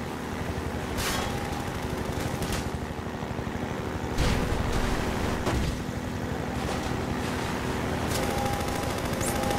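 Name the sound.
gunfire in the video game Half-Life 2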